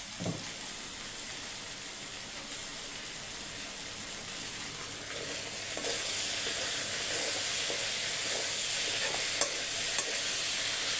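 Soy meal maker chunks are stirred with tomato sauce in a hot frying pan, a continuous close sizzle and hiss with the scrape of stirring, growing a bit louder midway.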